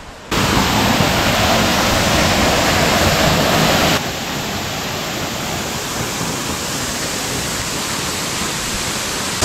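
Knuckles waterfall in a forest reserve roars as a loud, constant rush of falling water close by, with a sudden drop in level partway through as the roar carries on.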